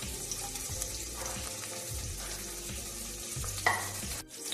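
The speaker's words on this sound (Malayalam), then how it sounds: "ഇഞ്ചിയും വെളുത്തുള്ളിയും ഇട്ട് കൊടുക്കാം." Ginger and garlic frying in hot ghee for spicy tomato rice, a steady close sizzle with stirring scrapes and a brief clatter near the end, no voices.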